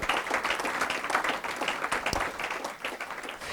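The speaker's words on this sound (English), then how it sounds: "Let's give a big round of applause for the Basts" Audience applause at an evening gathering in a conference room, a sustained, moderately loud rattle of many hands clapping that holds steady with only slight swells.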